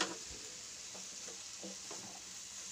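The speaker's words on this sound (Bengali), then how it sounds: "দেখুন আমি নেড়ে চেড়ে মিক্স করে নিচ্ছি।" Fried rice with vegetables being stirred and tossed in a frying pan, a continuous low sizzle with soft, repeated scraping strokes of a spatula, close but fairly quiet, with no voices.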